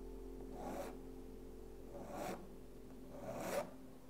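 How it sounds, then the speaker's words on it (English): A palette knife scrapes acrylic paint on canvas in three separate quiet strokes spaced about a second and a half apart, each a short rasping swipe over near silence. "Maybe I'll just scrape that little part away."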